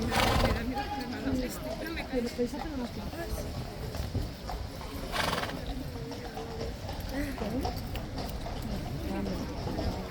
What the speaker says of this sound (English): This horse is completely black and massive.